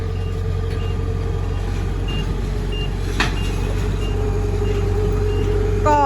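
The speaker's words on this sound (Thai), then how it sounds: "ดูรถเกี่ยวกลับบ้านแล้ว" A combine harvester drives home after the rice harvest, its loud, steady diesel engine droning close by, with faint beeps and a brief clank over the rumble.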